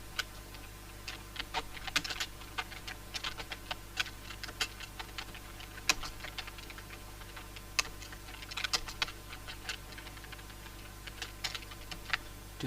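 Typing on a computer keyboard while entering text in CorelDRAW X7, light scattered key clicks coming in short irregular runs over a low steady hum, close but faint.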